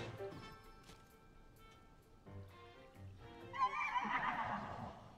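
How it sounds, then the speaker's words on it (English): A horse in the video game The Legend of Zelda: Tears of the Kingdom whinnies loudly, its neigh rising into a bright, shaky call after a few softer snorts and game noises, with a voice faintly present. "Hello, horse friend."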